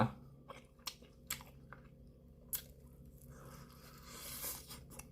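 Close, quiet chewing of 7-Eleven fried chicken with spicy seasoning powder, crisp crunching bites, several sharp crunches spaced irregularly over a soft, moist background of mastication.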